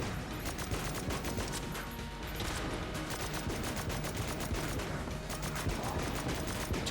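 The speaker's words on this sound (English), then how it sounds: "I don't even know where the explosions are happening." Dense, continuous gunfire and explosions from the video game Enter the Gungeon during a boss fight, rapid overlapping bursts at steady loudness with no pauses.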